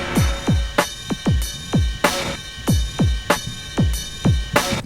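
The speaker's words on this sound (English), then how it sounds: "And also like a big reverb snare hit thing." A looping Y2K big beat drum pattern: deep booming kicks with a big, reverb-washed snare crashing in on a steady rhythm, loud and with no voices.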